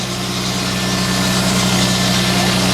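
A tractor engine runs at an outdoor sawmill demonstration at a show, idling with a steady, close, throbbing hum and a low regular pulse, and no talk over it.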